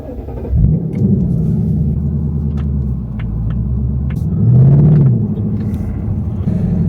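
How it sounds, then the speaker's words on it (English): Ford Mustang GT V8 turning over and catching with a deep thump, then settling into a loud, close, rumbling idle with a brief swell in revs partway through. "I'm going to start the car."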